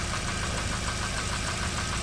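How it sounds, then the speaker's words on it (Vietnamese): Daewoo Gentra X hatchback with a 1.2 engine idling smoothly, a steady, even mechanical hum with a faint rhythmic ticking, heard close and constant with no voices. "Máy nổ khá là êm,"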